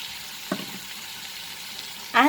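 Dried spices hit hot oil in a pan for aloo baingan badi ki sabzi, giving a brief soft sizzle, then a sharper, louder burst of frying at the very end.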